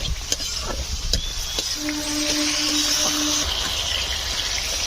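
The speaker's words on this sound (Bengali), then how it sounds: "ডালটা হালকা করে ভেজে নেবো।" Home-grown lentils frying lightly in a pan give off a steady, close sizzle and hiss, with a few sharp stirring clicks and a brief thin whine partway through.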